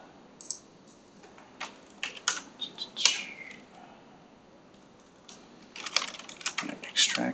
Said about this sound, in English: Let's type it in.